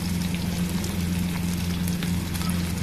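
Medium onion frying in homemade desi ghee for a nihari tadka, a steady close sizzle with fine crackling spatters over a low constant hum, no voices.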